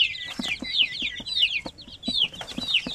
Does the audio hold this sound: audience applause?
no